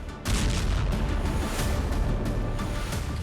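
Israeli bombardment in Khan Yunis, heard as a sudden heavy blast followed by sustained loud rumbling and crackling with repeated booming bursts.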